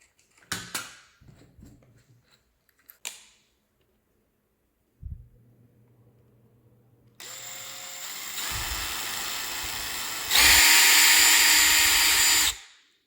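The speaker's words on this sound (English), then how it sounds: "We're going to drill a small pilot hole first." A drill bores a small pilot hole into tough plastic, running in a steady whine that builds over several seconds to a loud, sustained burst before stopping abruptly, preceded by a few clicks and handling knocks.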